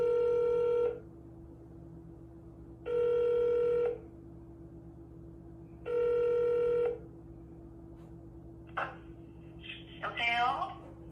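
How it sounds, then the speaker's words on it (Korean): Outgoing telephone ringback tone sounds in three evenly spaced one-second bursts over a steady low hum, then a voice answers at the end. "전화가 가고 있습니다"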